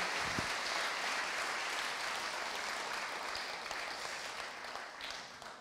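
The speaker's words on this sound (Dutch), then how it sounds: "Dames en heren, mag je een heel groot applaus." An audience at a fisheries debate gives a long, steady round of applause, broad and even, heard at a fairly low, slightly distant level and slowly fading toward the end.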